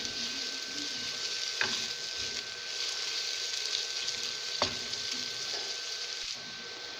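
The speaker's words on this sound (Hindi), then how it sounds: "प्याज को हमने मीडियम गोल्डन फ्राई करना है।" Onions frying in hot oil for a chicken curry, a steady bright sizzle with a couple of soft clacks of stirring, close and even throughout without talking.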